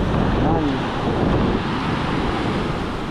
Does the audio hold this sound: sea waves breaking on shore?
yes